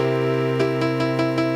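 A dominant seventh chord (root, third, fifth, flat seventh) rings steadily with rich harmonic tone, struck repeatedly in an even rhythm of soft pulses, played alone.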